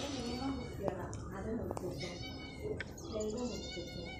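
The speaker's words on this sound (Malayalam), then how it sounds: "നമ്മൾ പൂച്ചസാറെത്തി." A cat meows several times in short, drawn-out cries, close by, with some faint background noise.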